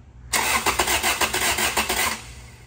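A Toyota 2ZZ-GE engine in a Celica cranks and catches, starting loudly and close with a rough, pulsing rhythm that settles after about two seconds, with no talking.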